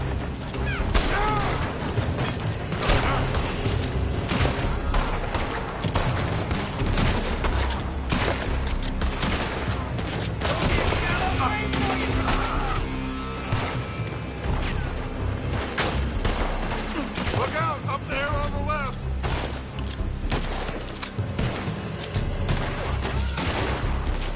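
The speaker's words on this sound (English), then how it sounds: "They're shooting from that building." Dense gunfire pours from a building in Red Dead Redemption 2, rapid overlapping rifle and pistol shots with booming reports sustained loudly throughout, mixed with game effects and occasional voices.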